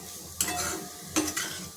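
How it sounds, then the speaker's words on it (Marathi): Dried bombil fish chutney frying in a little oil in a kadhai, a steady hiss with a few sharp stirring scrapes breaking through, close and moderately loud with no voices. "ह्याच कढईमध्ये थोडंसं तेल टाकून आपल्याला ही चटणी थोडी फ्राय करून ठेवायची आहे"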